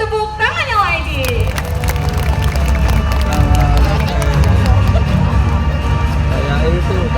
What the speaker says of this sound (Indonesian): Mana dong kasih semua tepuk tangannya lagi.